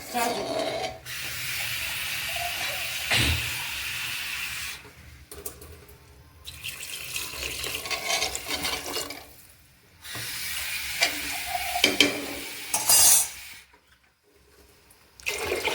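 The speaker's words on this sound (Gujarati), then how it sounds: "એટલે પાણી રાખશું આપણે એમાં" Water is poured into a pot of Girnari khichdi in several separate splashing bursts with short quiet gaps between them, close by and moderately loud.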